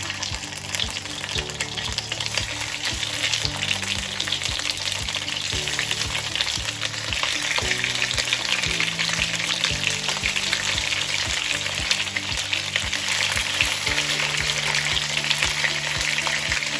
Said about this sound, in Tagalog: Pag mainit na yung oil, pwede na nating lagay yung chicken natin.